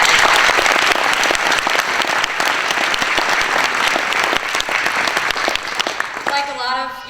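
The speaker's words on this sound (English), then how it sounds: "give them another huge round of applause" Audience at a children's theater show gives a loud, sustained round of applause with scattered cheers, dense clapping that ends abruptly as a voice begins speaking.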